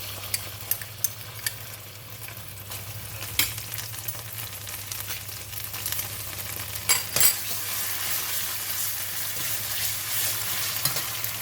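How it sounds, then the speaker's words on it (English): Red curry paste sizzles and fries in about a tablespoon of hot cooking oil in a pan, a steady close crackle broken by a few sharp spatula clinks and scrapes. "When the oil is hot, we are going to put in the red curry paste."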